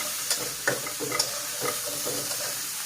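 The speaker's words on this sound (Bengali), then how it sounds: "মশলাটা ভালো করে ভেজে নিচ্ছি" Spice paste of salt, turmeric and dry chili powder frying in a pan for parshe fish curry, a close steady sizzle broken by several light spatula stirs and taps.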